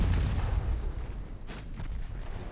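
Mark II 9-inch naval guns boom in Ultimate Admiral Dreadnoughts, a heavy low rumble trailing off with a couple of duller distant thuds, no voices.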